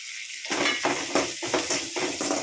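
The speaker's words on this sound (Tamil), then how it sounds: "1 ஸ்பூன் அளவு இஞ்சி பூண்டு சேர்த்து அதையும் இதிலே நல்லா எண்ணெயிலே வதங்கி விட்டுக்கணும்" Ginger garlic paste sautés in hot oil in a pan, a steady close sizzle with repeated scraping stir strokes in a loose rhythm, no voices.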